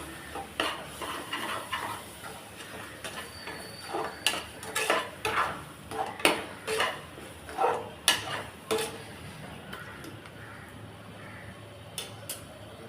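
Ginger-garlic masala sautéing in a pan for chicken kurma, with repeated metal spoon scrapes and clinks against the pan over a soft sizzle, close by and rhythmic.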